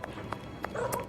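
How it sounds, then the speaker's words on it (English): Dog coughing in a video game: a few short, soft bursts spaced through about a second, with faint background noise. "It's a dog coughing."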